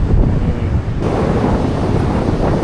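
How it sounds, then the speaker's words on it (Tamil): Strong wind buffets the microphone at the seashore where fishermen work, a steady loud roar with surf washing beneath it throughout. "காற்று சரியான காற்று"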